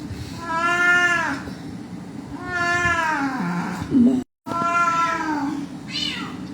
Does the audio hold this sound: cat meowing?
yes